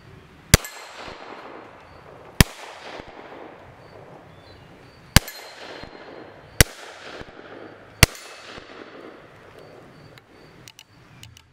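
A Huben K1 .22 caliber pistol fires five shots over a chronograph, sharp, loud cracks spaced a second or two apart with quiet rustling between them.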